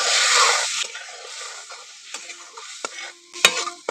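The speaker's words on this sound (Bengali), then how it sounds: "এবার এই মশলার মধ্যে আমি দিয়ে দেবো অল্প জল।" Water poured into a pan of sizzling spice masala for a paneer and papaya curry erupts in a sharp, loud hiss that fades quickly into quieter bubbling with scattered clicks of a spoon.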